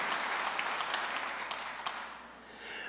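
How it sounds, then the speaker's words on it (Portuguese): A church congregation applauds during a sermon, steady mid-distance clapping with sharper individual claps standing out, tapering off toward the end. "Aplauda o Senhor, amados."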